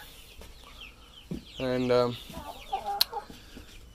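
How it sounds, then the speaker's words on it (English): Cornish cross chickens cluck close by outdoors on grass, with a short run of clucks in the middle, a few scattered calls after it, and a brief spoken word from a man. "That's a Cornish cross chicken right there."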